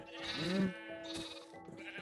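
Blocky sheep from the video game Minecraft bleat in a quick wavering cry, loud and close, with further softer game bleats and clutter following over a steady background tone.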